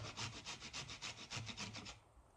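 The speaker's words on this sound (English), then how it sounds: "once you're done grating all your carrots" Carrots rubbed against a grater for broccoli cheddar soup, a close, steady run of about ten rhythmic rasping strokes that stop near the end, with no talking.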